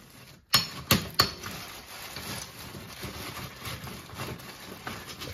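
Ice cubes in a leftover ice bag mashed with a big heavy spoon, giving three sharp, close clinking strikes near the start, then a dull rustling crunch that carries on quietly.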